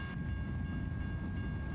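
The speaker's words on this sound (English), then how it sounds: "Wow, that's a long ass train." A long train rolling past in American Truck Simulator: a continuous heavy rumble of rail cars with a low, steady drone, no voices.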